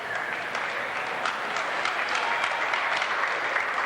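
A crowd at a 2003 Canadian men's gymnastics championship applauds a routine with steady, even clapping that fills the hall at a constant level throughout.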